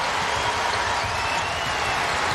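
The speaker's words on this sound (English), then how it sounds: "they cheer wildly when he does something well" Cheering crowd at a Kentucky versus LIU-Brooklyn college basketball game, a steady dense roar of voices and applause filling the arena without a break.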